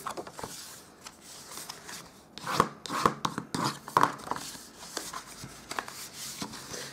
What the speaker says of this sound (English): we're going to fold and burnish with our bone folder